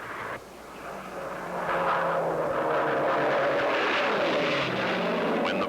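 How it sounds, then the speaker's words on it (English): A propeller-driven, piston-engine racing airplane roars in close and loud, its engine note steady and then swelling as it passes, with a slight pitch shift near the end. "To enter, an airplane must have a propeller and a piston engine."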